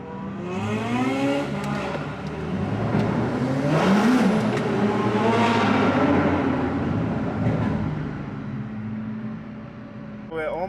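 Dozens of hypercars drive past in a convoy by the Mediterranean Sea in Croatia, engines roaring and revving loudly and continuously, with rising and falling passes that swell in the middle, while voices talk over the noise.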